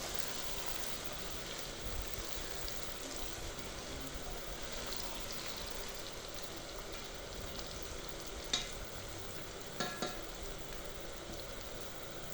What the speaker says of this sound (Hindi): आलू को हम तकरीबन 5 से 6 मिनट तक फ्राई करेंगे